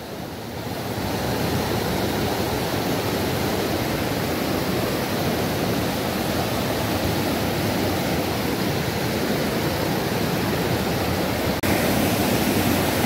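A mountain stream rushes loudly and steadily on the Uttarey to Chewabhanjyang trek in Sikkim. The dense, continuous wash of water sounds close, with no voices over it.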